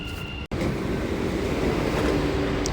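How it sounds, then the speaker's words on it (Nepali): A metro train pulls into a station with a loud, continuous rumble and rising rail noise close by, broken by a brief dropout near the start. "मेरो मेट्रो पनि आयो।"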